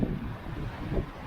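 Gusts of wind at sea aboard a sailing boat during an Atlantic crossing from Marigot to Horta, a brief rough rush of wind buffeting the microphone over low water noise.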